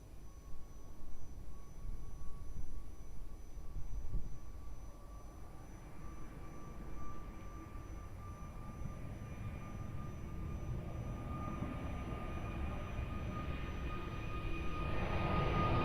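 KLM airliner taking off at Lisbon Airport, a steady distant jet engine roar that swells gradually in the second half into a louder broadband rush, with no talking.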